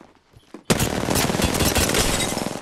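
Rapid bursts of Triple Take and R-99 gunfire in the Apex Legends video game, with near shots that start abruptly and continue in dense, overlapping volleys after a short quiet lead-in.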